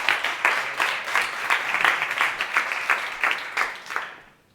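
A conference audience applauds as a speaker takes the stage at a digital business event, with dense, steady clapping that holds for several seconds before quickly fading away.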